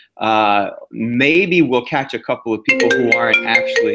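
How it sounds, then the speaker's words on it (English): An incoming phone call's ringtone chirps briefly as a bright, repeating electronic tone near the start, then stops while people keep talking in a conversational setting. "That's a phone call coming in."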